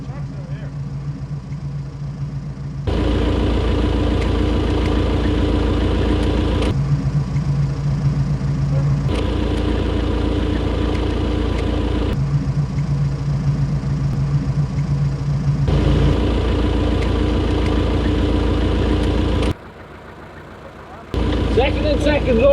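A tractor engine idles and rumbles loudly nearby during a boat launch, a steady mechanical drone that drops back briefly toward the end and then resumes.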